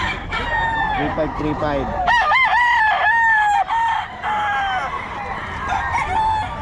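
A Sweater gamefowl rooster crows loudly and close by at the Bocaue market, with one drawn-out crow in the middle amid clucking, while people talk around it.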